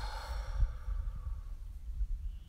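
A person breathes out slowly during an outdoor morning breathing and stretching exercise, a soft, breathy exhale that fades over a low background rumble.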